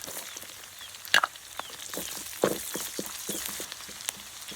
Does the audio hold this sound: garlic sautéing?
yes